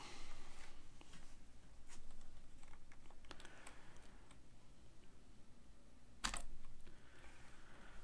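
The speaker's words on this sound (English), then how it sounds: "it would help if I actually typed in Geary" Computer keyboard typing in a quiet room, a quick run of soft clicking keystrokes with one sharper tap near the end, no speech.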